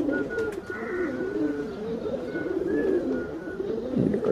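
Rampuri pigeons coo nearby in soft, rolling, repeated calls, with faint chirps in the background and no voices.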